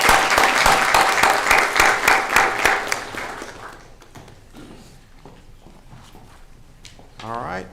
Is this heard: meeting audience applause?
yes